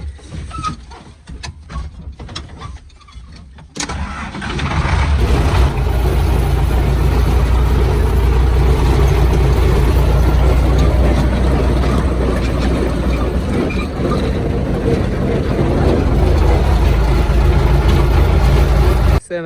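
A farm tractor engine runs steadily while driving out to the field, a loud continuous low rumble that starts after a few seconds of quieter noise and holds throughout.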